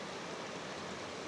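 Water flows steadily from Pinamun-an Spring in Malinao, Nagcarlan, Laguna, as a loud, close, continuous rushing wash with no other sounds above it.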